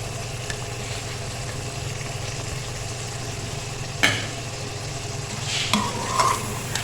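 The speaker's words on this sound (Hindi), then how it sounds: "चिकन को मसाले के साथ भूनते हुए" Chicken frying with masala in a karahi gives a steady, close sizzle, with a few sharp spoon scrapes against the pan near the end and no talking.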